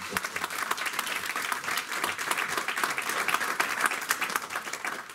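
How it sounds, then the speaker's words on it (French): A church congregation applauds its team of officiants, a lively, continuous patter of many hands clapping at moderate distance, with a few sharper claps standing out and no voices on top. "Donnons une acclamation."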